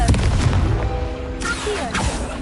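Confringo blast spell exploding in Hogwarts Legacy, a fantasy video game: a deep booming burst opens the moment, followed by whooshing magical effects and brief character vocal sounds over a dense game soundtrack.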